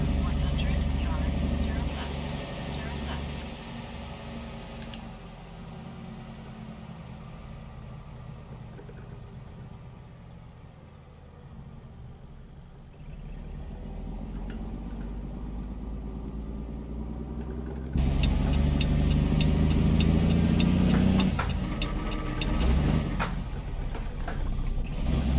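Heavy truck in American Truck Simulator, its engine droning and revving through a series of gear shifts, the pitch dropping and climbing, with a loud surge near the end.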